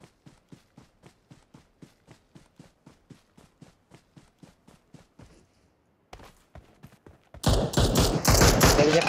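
Gunfire from a tower in the battle-royale game PUBG Mobile, heard as a steady run of evenly spaced muffled shots from a distance, followed by a brief pause and then a sudden loud, dense close burst of fire.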